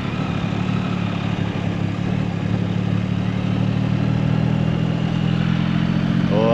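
A Can-Am off-road vehicle rides along a private road in Slovakia, its engine droning loud and steady with a rough, clattering mid-pitched rumble throughout.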